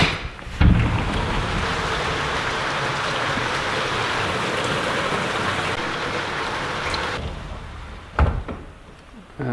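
Steady rain pours down in a continuous dense hiss, loud and close, framed by a couple of brief knocks or thuds near the start and end.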